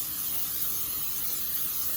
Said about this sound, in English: Then I'm gonna spray my pan